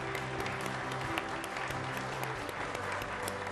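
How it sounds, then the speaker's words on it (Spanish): Audience applause at an essay contest award ceremony as an honoree walks to the stage, even, continuous clapping with a low steady hum beneath it. "Un aplauso, por favor."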